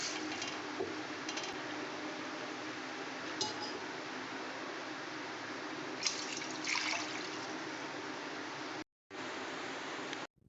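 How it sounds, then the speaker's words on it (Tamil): Water pours steadily into a cooking pot, about two cups for boiling pasta, a continuous splashing gush with faint clinks, briefly cutting out near the end before resuming. "பாஸ்தாவை வேக வைக்கிறதுக்கு பாத்திரத்தில் 2 கப்பு தண்ணி சேர்த்துக்கலாம்."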